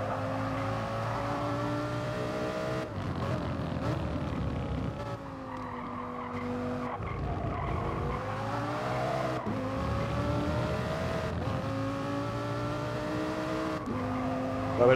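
A Lamborghini Huracán race car in a driving game laps the Montmeló circuit, its engine droning loudly and steadily with shifting pitch and occasional tire squeal, with no talking.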